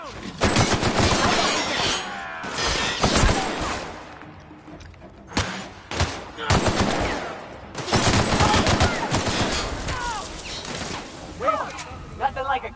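Gunfire in The Outer Worlds on PlayStation 4: rapid bursts of automatic shots and sharp single blasts in clustered volleys with short gaps, mixed with impacts and game character voices calling out.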